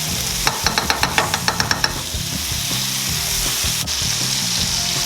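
Thin pork chops sizzling in a pan with butter, opening with a quick run of about ten sharp taps or clicks over a loud, steady frying hiss that continues alone with a faint tick partway through.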